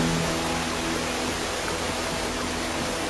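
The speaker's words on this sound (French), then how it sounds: "De petites cascades coulant à travers les rochers apparaissent." Small waterfalls flow over rocks in a valley, making a dense, even roar of rushing water that stays constant and close with no other sounds.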